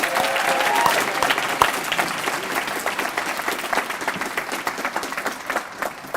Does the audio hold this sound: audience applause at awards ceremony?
yes